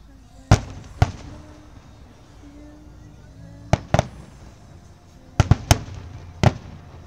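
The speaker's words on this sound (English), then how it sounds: "How long is this fireworks show?" A backyard fireworks show: sharp, loud firecracker bangs pop at irregular intervals, some in quick clusters, with faint talking in between.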